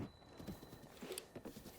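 Hooves of a horse in The Legend of Zelda: Breath of the Wild, a quiet steady clip-clop of walking steps, fairly faint and alone with no talk.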